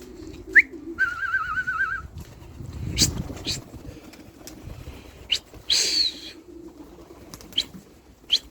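Pigeons flap their wings in brief bursts as they land on netting, with a few whistling notes and clicks, while someone talks intermittently nearby in Polish.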